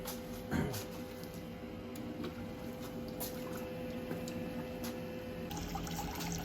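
Water flowing steadily through a reverse osmosis system during a 15-minute flush in a maple syrup setup, a continuous even rush and trickle with no talking.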